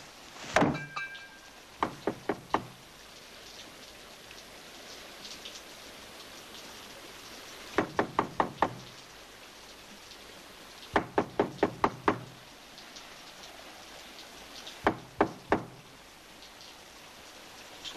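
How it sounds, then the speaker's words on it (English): Knuckles rap on a door in a 1970s Yorkshire countryside setting, arriving as several separate clusters of three to five crisp knocks with quiet gaps between them. "Somebody knocking."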